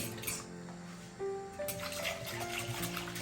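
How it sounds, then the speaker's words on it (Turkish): Cold water poured into a pot while making homemade tripe soup, a short, quiet splashing and trickling stream that rises in pitch as the vessel fills, with no talking. "Biraz suyumuzu, soğuk suyumuzu koyuyoruz."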